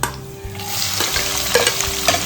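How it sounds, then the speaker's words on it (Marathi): Onion dropped into hot oil with whole spices for a masoor lentil pulao, crackling and sizzling steadily and loudly up close, with a spoon stirring through the pan and a few sharper pops. "ते सगळे आपण तेलामध्ये घालणार कांदा"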